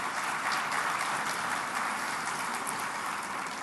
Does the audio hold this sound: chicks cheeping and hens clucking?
no